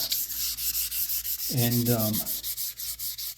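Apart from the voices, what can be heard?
hand sanding swamp ash with 400 grit sandpaper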